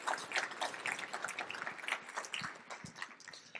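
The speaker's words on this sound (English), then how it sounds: "Let's give her a round of applause, please." A conference audience claps together in steady, dense applause, fairly faint and distant, with no talking over it.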